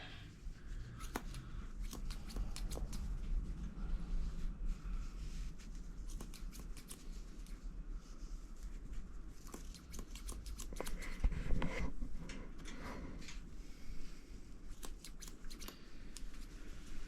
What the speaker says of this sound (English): they're super sharp scissors and they still don't even get through